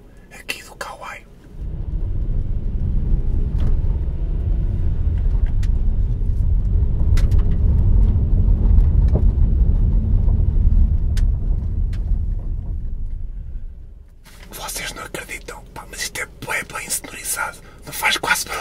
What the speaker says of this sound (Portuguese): vamos experimentar numa estrada muito esburacada. Fora de estrada, não tem alcatrão.